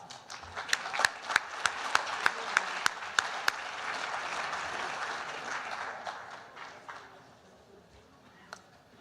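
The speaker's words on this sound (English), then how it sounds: "another round of applause" Audience applause at an evening annual campaign kick-off event, with several sharp nearby claps standing out early over a broad wash of crowd clapping that swells and then gradually fades away.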